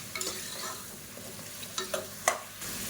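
Halved mushrooms sizzle in a hot pan while a utensil stirs and scrapes, with a few sharper clinks amid a steady frying hiss.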